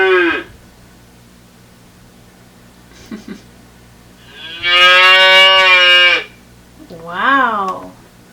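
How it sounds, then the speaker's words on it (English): A cow lows in several long, loud, close moos, one drawn out and followed by a shorter rising call, with brief quiet talk and steady low hum between them. "You're right, it's the cow."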